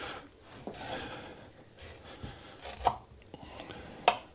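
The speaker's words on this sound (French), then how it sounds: "On va en couper une grosse tranche. C'est ferme, le céleri." A knife cuts a thick slice from a firm celeriac, with a few scraping passes and two sharp, crisp cracks as the blade pushes through, close and fairly quiet.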